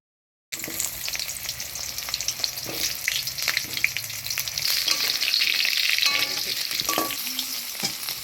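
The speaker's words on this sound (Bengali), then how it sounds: "এখন আমি করলা, কাঁকরোল ও আলু একসঙ্গে ভেজে নেব।" Bitter gourd, pointed gourd and potato frying together in a pan, a dense close crackling sizzle that starts abruptly and swells louder midway, with occasional stirring scrapes and no voices.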